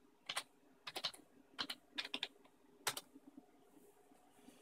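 Short bursts of keystrokes on a computer keyboard, a root password tapped in during an OpenBSD 5.9 install on an SGI O2, in a few quick clusters with gaps between, fairly quiet and close with no talking.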